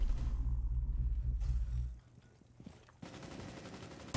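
Rainbow Six Siege gunfire at fairly low volume, with a rattling burst over a low rumble at first, then a pause and another stretch of firing.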